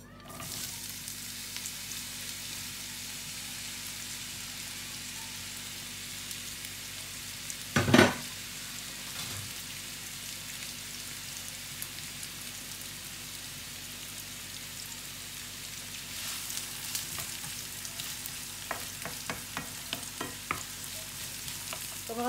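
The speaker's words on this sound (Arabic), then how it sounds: "غنفر البصل" Onions for a lasagna bolognese fry and sizzle in a pan in a steady, soft crackle. A single sharp scrape of stirring stands out partway through, with lighter clinks and stirring noises later on.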